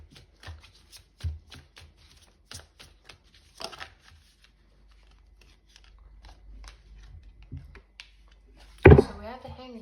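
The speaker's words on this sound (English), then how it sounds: "I'm gonna pull one more card." Tarot cards are shuffled by hand in close, soft riffling bursts of flicks and slides, with a louder rustle near the end and a voice in between.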